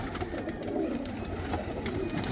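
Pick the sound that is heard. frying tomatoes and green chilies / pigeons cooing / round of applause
pigeons cooing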